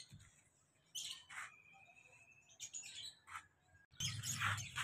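Aseel chicks in a cage give repeated high, thin chirps and peeps, close and fairly clear, with a louder burst of chirping near the end.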